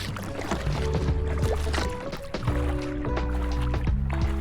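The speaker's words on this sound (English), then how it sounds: "This was my first time paddling on a fast-flowing river" A solo kayak is paddled on the fast-flowing Yukon River, with repeated splashes and drips of water as the blades stroke, close by, over a steady rush and gurgle of the current.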